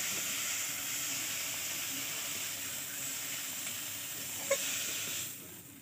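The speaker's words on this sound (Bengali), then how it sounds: "এটাকে লাল লাল করে ভেজে নেব" Prawns frying in hot oil with turmeric, a steady soft sizzle heard close and alone, with a brief clink near the end before it fades slightly.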